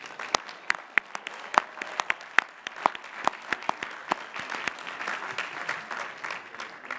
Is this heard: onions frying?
no